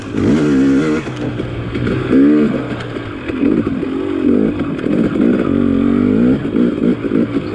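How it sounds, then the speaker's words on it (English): A 2020 KTM 250XC TPI two-stroke dirt bike engine runs steadily up close, with repeated revving swells and a mechanical clatter throughout, no talking over it. "go for the second ride on my 2020 KTM 250XC TPI"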